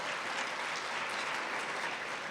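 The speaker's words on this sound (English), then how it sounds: "join me in extending a round of applause" A crowd at an awards ceremony applauds continuously, a dense even patter of many hands clapping throughout.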